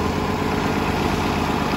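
Idling bus engines at a Disney World bus stop, a loud continuous low diesel rumble with a steady droning hum that stays constant throughout.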